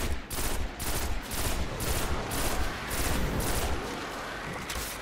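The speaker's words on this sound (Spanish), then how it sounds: "Se están pegando tiros ahí." Rapid gunfire bursts in the Destiny video game, dense overlapping volleys of shots continuing steadily and loudly throughout with no talking.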